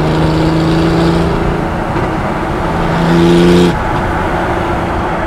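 RWB-built Porsche 993 accelerating smoothly, heard from inside as a loud steady engine drone that rises in pitch, eases, then climbs again near the end.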